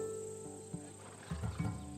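A warrior horse of the Macedonian breed in Assassin's Creed Odyssey gives a short, low snorting neigh over a steady hum of game ambience and music.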